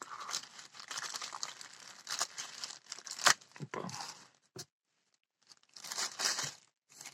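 A sealed single-use plastic packet crinkles and tears in bursts of rustling, with a sharp snap midway, a brief pause, then more crinkling. A voice briefly exclaims.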